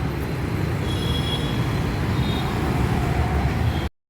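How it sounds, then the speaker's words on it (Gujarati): Heavy afternoon street traffic in Bangalore rumbles as a continuous low roar of engines, steady and close, alone with no voices, ending abruptly. "અહીંયા અત્યારે બી 3 વાગે બી બહુ જ ટ્રાફિક છે."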